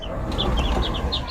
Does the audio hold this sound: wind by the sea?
no